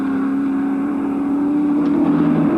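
Holden Commodore race cars at the 1986 Bathurst 1000 drone past on Mountain Straight: a loud, steady engine note holds high revs throughout, with a second engine joining the roar near the end.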